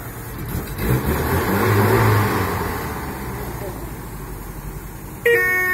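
A Żuk van's engine runs after being started with a hand crank, a loud, steady mid-pitched rumble with a rising rev near the start, people talking over it, and a sharp horn-like toot at the very end.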